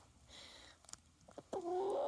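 Chickens cluck close by in a backyard flock during cold weather, short faint calls building to a louder drawn-out cluck at the end.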